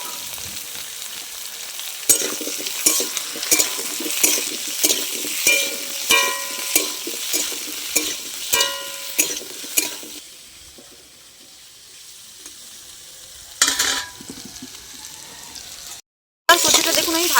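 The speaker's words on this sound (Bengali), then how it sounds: "কচু আর আলুটা এবার খুব ভালোভাবে আমি ভেজে নেব" Taro root and potatoes sizzle and get stirred in a pan for a dish with rui fish, the spatula clacking in steady strokes. Midway the frying drops away to a quiet stretch, followed by a short burst of noise.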